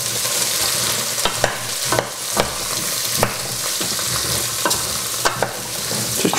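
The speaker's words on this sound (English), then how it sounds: "I'm just going to pop all that in the pan and then give it a mix around." Diced celeriac fries in hot oil in a pan and is stirred, giving a steady close sizzle broken by sharp scrapes and clacks of the utensil against the pan every second or so.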